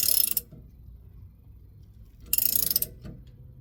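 A small wrench is turned on a Matco ball joint press, giving two short bursts of rapid ratcheting clicks separated by near-silence, close and moderately loud.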